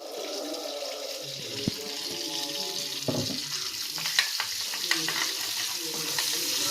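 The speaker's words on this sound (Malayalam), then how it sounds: "കടുക് വറക്കാനായിട്ട് ഇത്തിരി എണ്ണയും കടുകും വറ്റൽമുളക് അരിഞ്ഞിട്ട് നല്ലോണം മൂക്കട്ടെ." Mustard seeds and chopped dried red chillies frying in oil for a tomato chammanthi, a steady spattering sizzle with scattered sharp pops and crackles that grow busier toward the end.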